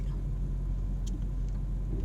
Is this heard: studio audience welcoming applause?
no